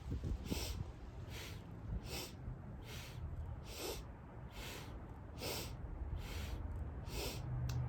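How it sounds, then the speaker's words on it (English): Fast yogic breathing in and out through the nose: around nine evenly spaced, soft, airy breaths in a steady rhythm, quiet and close, with no talking. "Yogic breathing is in and out through the nose, a really nice and controlled breath."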